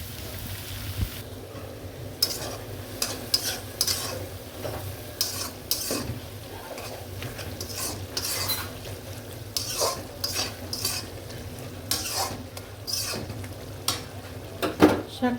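Pumpkin leaves stir-fried with spices in a pan give a steady sizzle broken by repeated scraping and stirring strokes, close and moderately loud, with no talk.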